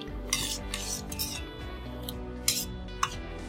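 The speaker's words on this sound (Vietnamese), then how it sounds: "các bạn vớt bọt ra nha mọi người." A utensil scraping and clinking against a pot of boiling soup while foam is skimmed off, with several sharp metallic chinks over a steady bubbling rumble and no speech.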